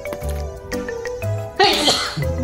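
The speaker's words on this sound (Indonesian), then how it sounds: "maaf kawan-kawan bersin" A single sharp sneeze bursts out close by during a refill of a 10-inch well-water filter housing with zeolite, activated carbon and silica sand, standing out briefly against quieter surrounding sounds.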